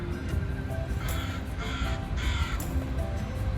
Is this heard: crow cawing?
yes